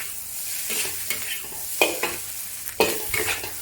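Bacon fried rice with scallions stirred in a well-seasoned cast iron wok: a spatula scrapes and tosses the rice in a few distinct strokes over a steady low sizzle, close and alone.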